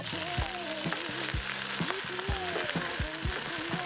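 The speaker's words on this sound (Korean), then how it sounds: "마지막으로 볶음 쌈장을 넣고 지글지글 볶아주는데요" Pork belly with onion, minced garlic and leftover vegetables sizzles in a pan as ssamjang is stirred in, a steady close frying hiss broken by repeated scraping stir strokes, with no talk.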